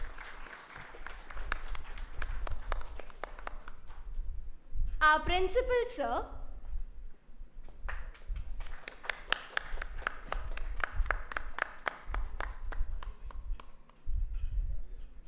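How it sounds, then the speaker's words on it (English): Scattered clapping from an audience at a hackathon guest felicitation, uneven bursts under a voice speaking over a microphone, with a brief loud electronic or vocal flourish in the middle. "Guys, let's have a big round of applause."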